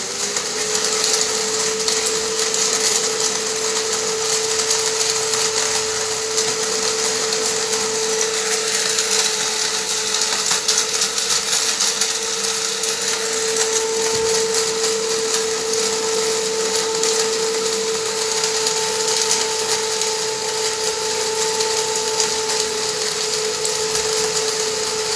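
A coffee grinder runs steadily for the whole stretch, a loud, continuous whirring grind with a sustained hum and no pauses.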